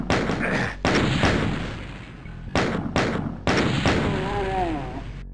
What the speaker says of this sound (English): I just took that guy out with that barrel exploding